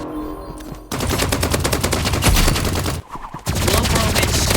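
Rapid automatic gunfire from a video game fires in a dense sustained burst, briefly stopping before resuming, loud and close throughout.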